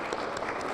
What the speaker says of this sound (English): So let's clap for her first.